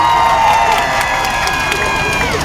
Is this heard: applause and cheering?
yes